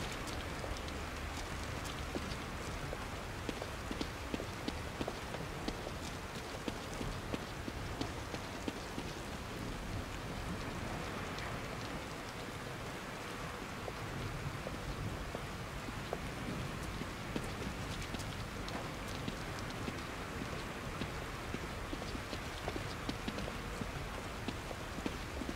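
Steady rain falls in The Evil Within, a continuous hiss of drops spattering on surfaces with occasional clattering patter, holding an even level for the whole stretch with no voices.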